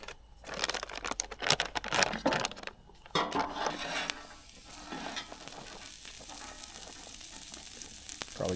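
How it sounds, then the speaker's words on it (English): Diced potatoes browning in a pan at a campsite, with a steady sizzle, a burst of stirring and scraping at first, then an even hiss, no voices. "I'm browning up these taters really well."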